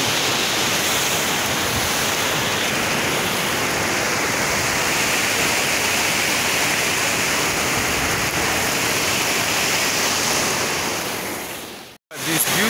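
River water rushes loudly and steadily around someone wading across, a thick continuous roar that cuts out abruptly near the end.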